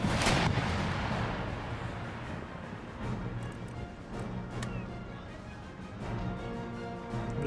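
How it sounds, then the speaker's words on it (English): Naval cannons fire a broadside in the strategy game Empire: Total War, a string of booming shots and sharp reports over a continuous rumble of battle, with a few quieter bangs spread through the clip. "I'm going to fire a broadside into this ship."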